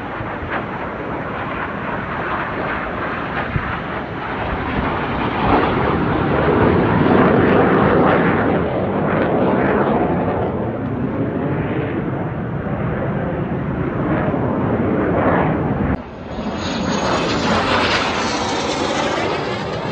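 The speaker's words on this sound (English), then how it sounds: "They're planes going everywhere." Military jets roar overhead at a NATO air demonstration over Virginia Beach, a loud, sustained broadband engine rush that swells and sweeps past, then shifts to a higher whine near the end.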